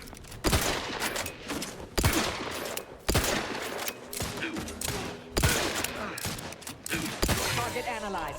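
Rapid automatic gunfire rattles in bursts during combat in The Outer Worlds 2, loud and close with sharp repeated cracks, and spoken voices break in between the volleys.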